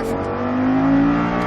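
An Audi R8 sports car accelerates hard on the Mettet racing circuit, a loud, close engine roar rising steadily in pitch during a short burst with no talking.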